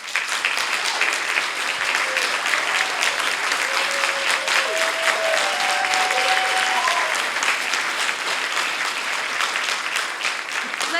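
An audience at an award benefit applauds scholarship recipients with sustained, dense clapping that fills the room at steady loudness, while a voice briefly sounds under it partway through.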